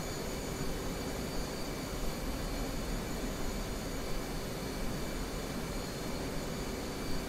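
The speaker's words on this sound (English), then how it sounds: "I'll do one more flyby just to get nice and close, and then I'll land" Jet aircraft passing close overhead in the DCS flight simulator, a steady broadband engine roar that stays loud and even for several seconds with no one talking.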